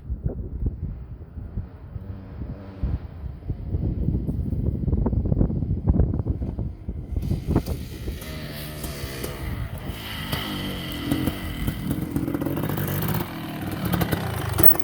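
A Kawasaki KX500 dirt bike engine buzzes and revs while riding, with heavy wind buffeting the microphone throughout; no talking.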